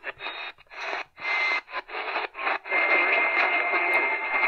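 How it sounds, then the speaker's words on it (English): Birdie-tone interference on the AM band of a Tecsun PL-398BT radio: choppy bursts of whistling, buzzy tuning noise that break up early, then settle into a continuous loud whine. "A bit more birdie tones on 1010,"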